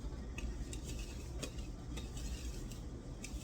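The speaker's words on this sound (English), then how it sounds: "it's all whisked together" A hand whisk stirs dry ingredients for a pumpkin roll in a bowl, making a soft continuous scraping with light metallic clinks against the bowl at irregular moments, close and quiet, without talk.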